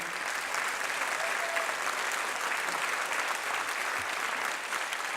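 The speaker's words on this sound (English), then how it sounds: "let's give a round of applause." A school concert audience at an end-of-year music show applauds steadily, a dense wash of many hands clapping at an even level for about five seconds with no pauses.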